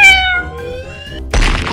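A cat gives one long drawn-out meow, clear and close, which ends abruptly and is cut off by a burst of broadband noise.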